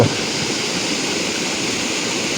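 A clear mountain stream rushes steadily with a constant broadband hiss of flowing water, close and even throughout with no voices.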